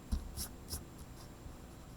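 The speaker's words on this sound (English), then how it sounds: "I'm going to erase the floor line right in between those door posts." Eraser scrubbing out a pencil floor line on drawing paper, a few soft quick rubbing strokes close to the ear in a quiet room, fading into light scuffing.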